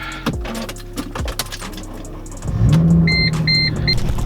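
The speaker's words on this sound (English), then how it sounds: "I'm gonna go ahead and start this car up" A car's ignition cranks and the engine catches into a steady idle, followed by a few short electronic chimes.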